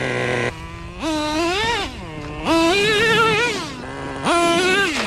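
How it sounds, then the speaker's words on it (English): A Traxxas T-Maxx nitro RC monster truck engine runs after a start-up, its buzzing whine revving up and dropping back in several surges. The sound is loud and close, with no talk over it. "Let's start her up. As easy as that, baby. Right away. Nitro will never die."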